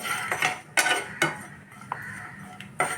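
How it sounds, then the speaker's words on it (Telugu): A metal ladle scrapes and clanks against a cooking pan while potatoes and drumsticks for a cashew curry are stirred, with several sharp, close knocks separated by brief scraping pauses. "అదే గరిటెతో వండుతున్నాను"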